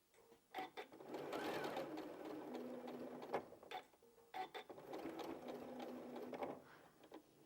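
A sewing machine stitches through bulky quilt fabric in two steady whirring bursts, each starting and stopping with mechanical clicks, close and fairly quiet.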